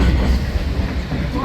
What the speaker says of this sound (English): This is the Howard Beach train.